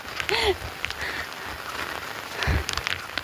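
Village rain falls steadily on surfaces, a soft continuous patter with a few louder knocks and a brief faint voice in the background.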